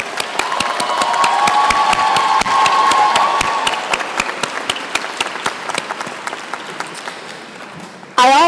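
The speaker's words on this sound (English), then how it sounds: "Please give them a round of applause." A large convocation audience bursts into sustained applause with cheering and whoops, loud and dense at first and then gradually tapering off before a voice cuts in at the end.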